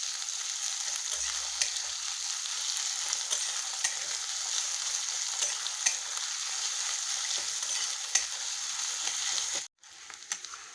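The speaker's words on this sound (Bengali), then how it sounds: "পেঁয়াজ কুচি দিচ্ছি। পেঁয়াজটা একটু ভালোভাবে লাল লাল করে ভেজে নেব।" Chopped onion fries in oil in a pan for mushroom masala, giving a steady, close hiss and sizzle with faint stirring scrapes that cuts out abruptly near the end.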